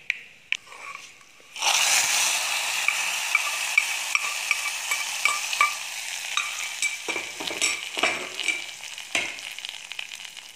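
A hot tempering is poured into dal with a sudden loud sizzle that starts after a couple of quiet clicks. The sizzle slowly fades while a spoon stirs and scrapes the pot with intermittent knocks.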